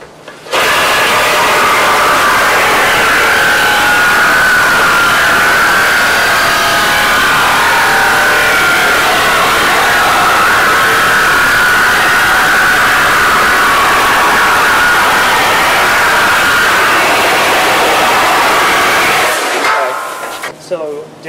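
A Diablo carbide-tipped reciprocating saw blade cuts through steel culvert pipe, a loud continuous grinding, rasping roar lasting nearly twenty seconds before stopping abruptly, with voices faintly beneath.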